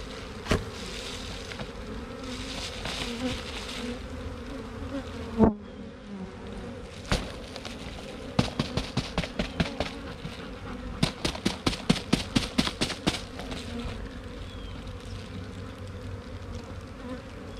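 A steady swarm of honeybees being shaken into a package hums continuously, with sharp clicks and taps scattered through, some in a quick rapid series near the middle.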